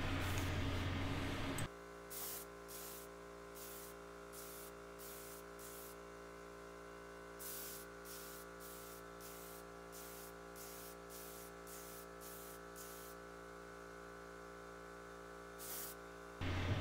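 A final spray coat of finish goes onto a wooden tablet stand: a loud hiss opens and closes the stretch, with a steady lower spray hiss in between, broken by short rhythmic pulses of spraying, close up and without voices.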